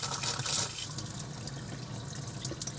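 Cold water gushes from a faucet in an RV or cabin sink, a steady close hiss and splash that opens with a louder burst and then settles into an even flow, with no talking.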